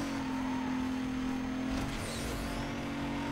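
A car in Need for Speed Most Wanted charging in at full throttle, a steady loud engine drone with a sustained tonal whine and a brief swell midway, with no one talking.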